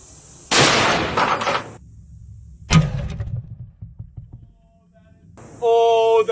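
A single gunshot fired at a gold bar, a sharp broadband crack near the middle followed by a short decaying tail, with bursts of excited voices before and after.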